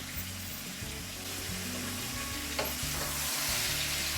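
Courgette curry with coriander powder, garam masala and curry powder sizzles steadily in a pan while a spoon stirs it with repeated soft scraping strokes, close and alone.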